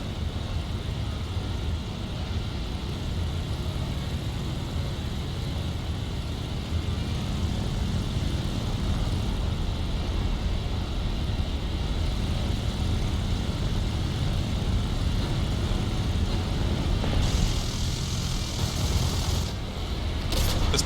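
Fighter plane in the video game War Thunder, armed with cannons, rockets and machine guns, drones steadily throughout with a constant engine roar, a slight rise in intensity partway, and faint higher noise toward the end.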